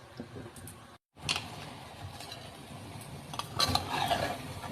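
Sauteed vegetables are gently stirred into cooked rice in a pot, giving faint scraping and soft clinks of a utensil against the pot, with a short silent gap early on.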